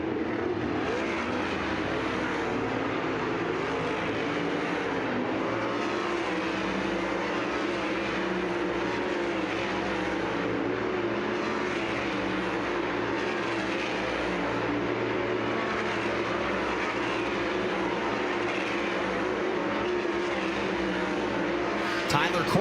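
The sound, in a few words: race cars on a dirt track during hot laps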